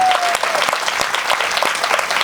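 Audience applause at a Hindi poetry recital (kavi sammelan) in a township hall: a steady burst of many hands clapping, close and fairly loud, filling the whole moment without voices on top.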